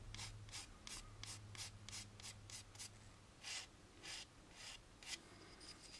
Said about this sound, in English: we want to get rid of that cutoff point by cross-sanding out to the edges